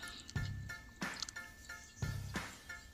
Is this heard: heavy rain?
no